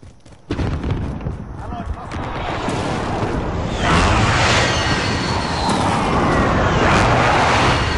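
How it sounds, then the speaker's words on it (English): Precision airstrike explosions hit on Rebirth Island in Call of Duty, a sudden heavy boom swelling into continuous rumbling blasts that grow louder midway and keep roaring to the end. "Be advised, friendly precision airstrike inbound."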